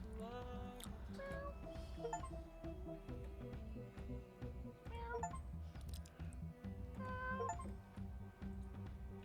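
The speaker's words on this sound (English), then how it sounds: "Love some of the noises these cats make." Cats in the video game Cats Hidden meow again and again, with drawn-out, wavering calls and short mews layered over steady background music.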